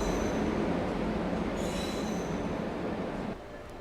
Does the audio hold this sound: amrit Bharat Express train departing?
yes